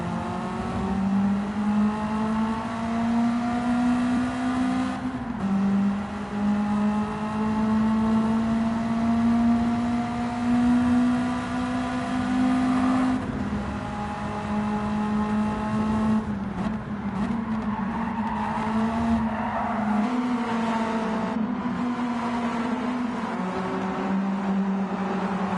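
A race car's engine in Gran Turismo 7 during a Nations Cup online race: loud and continuous, its pitch climbing through the gears with short drops at each upshift, and no voices over it.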